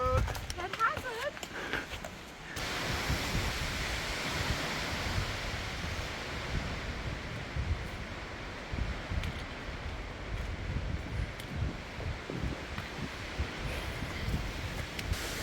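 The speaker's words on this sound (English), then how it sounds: "We're getting towards the top of the tree line and the wind is really, really strong" Strong wind roars near the tree line on Mount Katahdin during an ice storm, a dense, steady rumbling buffet with heavy microphone wind noise after a brief rustling start.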